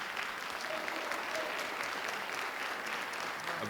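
Steady, sustained applause from a crowd at a winter graduation ceremony, an even roar of many hands clapping at moderate distance, without speech on top.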